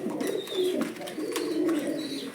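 Pigeons at a pigeon farm coo in soft, low, continuous rolling calls, close by, with faint chirps on top and no talk.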